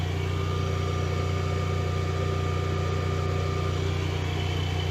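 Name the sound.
car engine running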